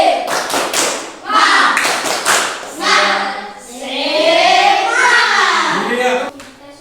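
A group of people, children among them, clap together in a rhythmic chant pattern, with bursts of sharp claps mixed with loud chanted voices, close and energetic.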